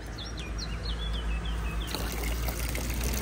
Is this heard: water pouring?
yes